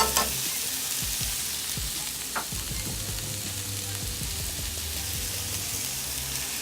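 Chopped celery and red pepper frying in a pan, a dense, continuous sizzle like light rain, with a few faint clicks of stirring.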